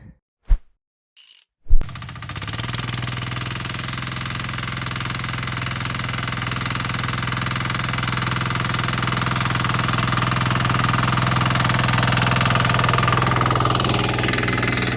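A DTZ walk-behind tractor pulling a plough starts up after a few sharp clicks and knocks, then runs with a loud, steady diesel drone that grows slightly stronger over the rest of the clip.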